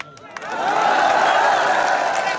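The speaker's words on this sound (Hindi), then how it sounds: "लेकिन ऐसे ताली बजा के ताकत तो देते हैं उनको।" A crowd at a Bhim Army rally in Pali, Rajasthan claps and cheers, a sustained loud wash of applause swelling after a brief quieter start and holding steady.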